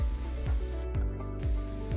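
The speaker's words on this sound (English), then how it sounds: "I'm using the Waterfall Scent Mrs. Meyer's Glass and Surface Spray for my mirrors" Mrs. Meyer's Waterfall Scent glass and surface spray is pumped onto bathroom mirrors in four quick, evenly spaced trigger squirts, each a short close hiss with a plasticky click.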